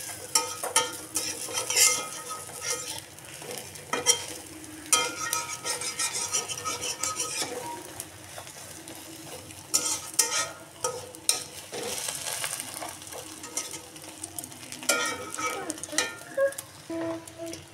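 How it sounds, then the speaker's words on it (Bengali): An egg fries in a wok, a continuous sizzle with scraping and stirring of a utensil against the pan and occasional metallic clinks, steady and close throughout. "ডিমটা আমার ভাজা হয়ে গেছে"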